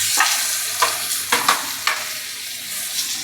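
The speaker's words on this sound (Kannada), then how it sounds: "ಬಟ್ಟದಲ್ಲಿ ಪನ್ನೀರ್ ಫ್ರೈ ಮಾಡ್ಕೊಳ್ಳೋಣ." Paneer frying in a pan for paneer butter masala, a loud close sizzle with several spatula clinks and scrapes at irregular intervals.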